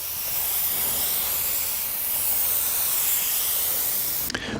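Sustained, even hiss of a spray gun laying a heavy, slow clear coat onto a car at full fluid volume and about 28 psi air pressure, continuous and close, ending with a short clatter.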